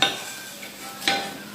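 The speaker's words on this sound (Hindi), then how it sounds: "बस मैं इसको अब डिश आउट कर रही हूँ।" A bread paratha is lifted out of a lightly oiled frying pan. A short scrape comes first, then a brief sizzle, then a second clear scrape, all close and fairly soft.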